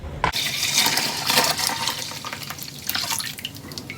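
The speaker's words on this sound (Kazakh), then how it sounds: "Сүттің бәрін құйып алдым." Unskimmed cow's milk pours steadily into a cauldron, a loud, continuous liquid rush that begins with a sharp onset and keeps flowing alone for several seconds, with no talk.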